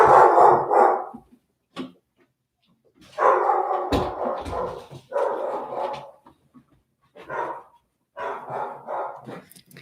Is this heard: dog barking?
yes